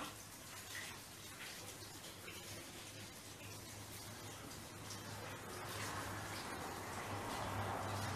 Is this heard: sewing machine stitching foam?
no